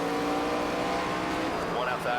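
Race cars in the video game NASCAR 25, with a dense, continuous high engine drone from several cars running close together on track, loud and steady, partly under someone talking.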